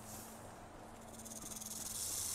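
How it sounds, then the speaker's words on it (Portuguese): A snake hisses in GTA V NoPixel roleplay, a faint steady airy hiss that thickens toward the end, soft and close with a low background hum beneath it. "Tem uma cobra atrás de tu aí."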